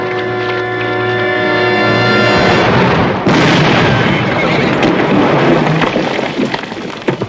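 An Old West cannon fires with a loud, sustained roaring blast that rumbles on for several seconds, preceded by a steady tonal hum and ending in crackling debris noise.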